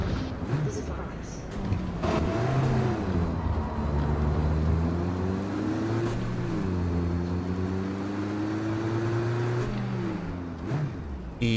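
A 4x4 car in Cyberpunk 2077 revs hard, its engine note climbing in pitch, dropping and climbing again through repeated shifts, loud and close.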